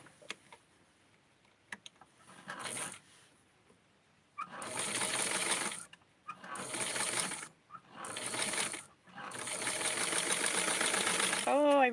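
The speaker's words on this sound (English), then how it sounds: "So I'm going to sew it this way and then fold it." Sewing machine stitching fabric for a small 6-inch premie doll, several close bursts of rapid mechanical whirring separated by short pauses, with brief handling clicks before the first run.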